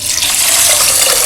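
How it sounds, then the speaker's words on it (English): Water pours in a strong, continuous rush into a deep heavy-bottomed vessel holding washed basmati rice, loud and close, splashing steadily throughout. "triple the amount of water"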